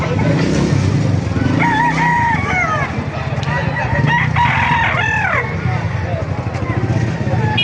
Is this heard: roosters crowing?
yes